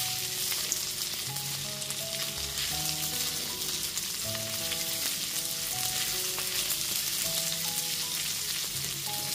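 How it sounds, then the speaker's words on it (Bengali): Onion and capsicum stir-fried in a pan for chilli chicken give a steady, close, loud sizzle with stirring scrapes throughout, with a musical background track running underneath and no talking. "পেঁয়াজ আর ক্যাপসিকামটা একটু নাড়াচাড়া করে নেব।"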